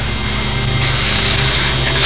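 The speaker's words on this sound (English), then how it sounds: "when I'm sanding out this panel" Steady abrasive rubbing hiss of sandpaper worked over a flat model airplane wing panel, continuous and close, with no talking.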